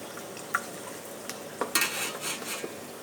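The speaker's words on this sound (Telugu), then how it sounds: "తర్వాత మళ్ళీ ఆయిల్ పోసుకొని ఇలా ఫస్ట్ జీలకర్ర వేసుకోవాలి." Cumin seeds hit hot oil and fry with a light sizzle, broken by sharp pops and spatters and a few metallic scrapes of a spoon against the pan.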